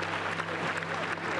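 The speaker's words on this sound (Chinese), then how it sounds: "我们再给他们热烈掌声" Applause from the audience at a year-end thanksgiving gathering, a steady dense wash of clapping that fills the whole moment without a break.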